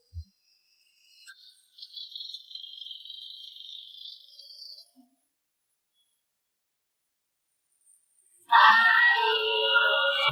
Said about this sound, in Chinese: 汤姆牌进口蜜蜂